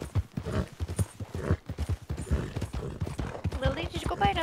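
Horse hooves clip-clopping in Red Dead Redemption 2, a regular rhythmic patter of steps, close by and under frequent talking from players.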